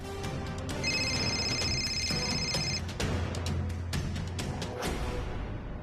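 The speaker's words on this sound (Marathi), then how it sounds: "साहेबांचा फोन." A mobile phone rings with a steady electronic ringtone for about two seconds, a boss calling, heard over a busy indoor background with no talk.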